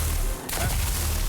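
Submachine gun fire in a video game: a loud rapid burst of shots crackling densely across the whole moment, briefly dipping before resuming.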